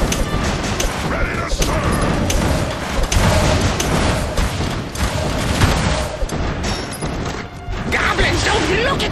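Explosions in the video game Kingdom Rush Vengeance, dense repeated crashing blasts and booms packed tightly together at loud volume, with game voice lines calling out over the battle din.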